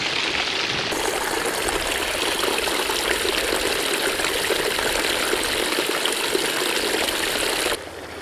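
A stream flows along a hiking path near Llangollen, giving a loud continuous rush of water that stays steady throughout and drops off sharply at the very end.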